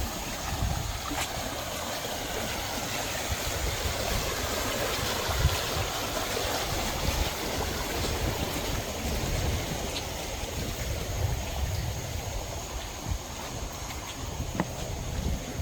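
Floodwater after a hurricane rushes steadily over and around a submerged bridge as it drains into a pond, a continuous broadband wash with no talk.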